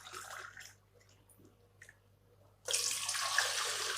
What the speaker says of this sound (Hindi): सबसे पहले हम इडली कुकर में 1 गिलास पानी